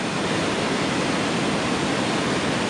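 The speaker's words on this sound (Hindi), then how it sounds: "ये नाला है, बहुत तेज पानी की धार है" A fast-flowing Himalayan mountain stream rushes in a dense, even roar of water, loud and constant with no other sounds standing out.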